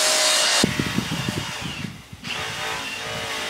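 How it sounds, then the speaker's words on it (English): A wire wheel grinds steadily in a workshop under a car's rear axle, giving a loud, continuous hiss with rapid rattling pulses, briefly dropping away for a moment before resuming at full strength. "Sorry for the noise, but yeah, Lawson's wire wheeling and it's got to be done"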